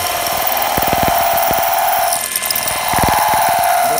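A power drill bores a hole through a pane of glass, a steady high grinding whine with rapid rattling pulses, close up and loud, dipping briefly midway before resuming, with no talking.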